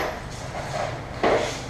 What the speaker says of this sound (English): see how many more screws I can drop this for you